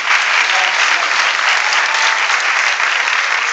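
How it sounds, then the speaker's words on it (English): Loud, sustained applause from a party crowd celebrating a training challenge, steady clapping filling the room without a break. "Big round of applause for everybody."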